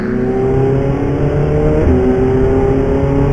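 Ferrari and Porsche race cars at Val de Vienne accelerate hard at a race restart, a loud continuous engine roar with rising pitch and a gear shift partway through.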